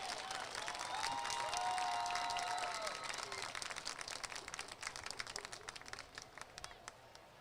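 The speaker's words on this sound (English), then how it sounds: "give these seniors one more round of applause as they exit the field" A crowd in the stands at a high school football Senior Night game claps steadily, a dense wash of applause that gradually thins into scattered, individual claps as it fades.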